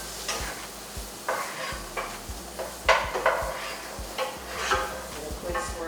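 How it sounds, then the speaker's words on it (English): Butter and rice sizzle steadily in a pan, broken by several sharp clinks and scrapes of a utensil stirring, close and moderately loud. "Let that sizzle up."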